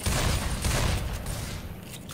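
Grenade launcher fire in Left 4 Dead 2 comes as a dense, loud burst of booming blasts in quick succession, slightly fading toward the end.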